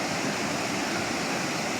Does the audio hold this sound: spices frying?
no